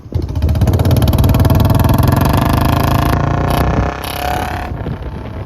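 A motorbike engine roars loudly and steadily up close, then drops off near the end as the revving eases.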